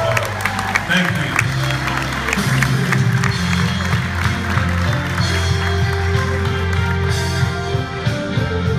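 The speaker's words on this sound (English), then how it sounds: "Give yourselves a round of applause." Applause from a crowd at a performance, dense clapping and some cheering filling the room, with a voice heard over the noise.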